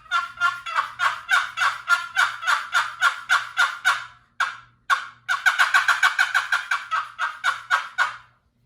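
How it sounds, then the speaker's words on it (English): Poplar turkey box call with a Purple Heart lid worked by hand, giving a close, loud series of raspy yelps in steady rhythm, a short pause, then a faster run of clucking yelps, with no talk. "This will be poplar box with a Purple Heart lid."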